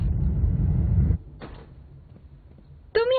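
A locked door is worked open, with a low rumbling clunk and then a sharp latch click in a quiet room, followed by a brief creak or squeak at the end.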